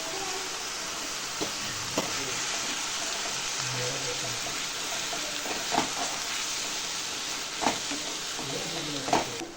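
Drumstick leaves with grated coconut sautéing in a pan with a little water, giving a steady loud sizzle and hiss throughout, with occasional sharp stirring knocks close by.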